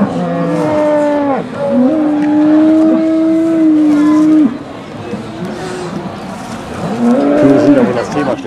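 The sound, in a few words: cows mooing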